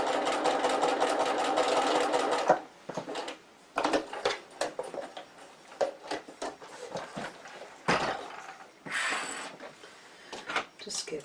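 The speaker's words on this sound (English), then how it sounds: "I'm just going to run my stitches just a little way over the top." A sewing machine runs a short line of top stitching over previous stitches while making a roll organiser, a steady mechanical whirr at first, then broken into brief bursts of stitching.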